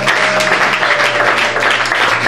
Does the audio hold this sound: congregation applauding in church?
yes